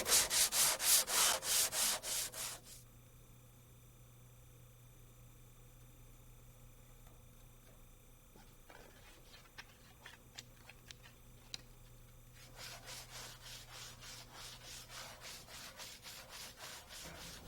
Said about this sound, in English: Use sandpaper wrapped around a block of wood for even sanding.